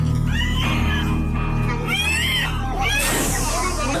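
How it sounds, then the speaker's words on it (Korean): A woman lets out anguished, near-wailing screams as she is brought into a trauma center emergency room at night. The loud, rising and falling cries repeat over several seconds against a busy background hum. "절규에 가까운 비명을 지르는 한 여성이 실려왔다"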